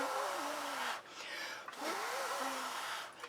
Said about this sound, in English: good to blow on the paint while it's wet